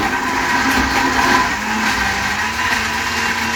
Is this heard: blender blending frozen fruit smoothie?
yes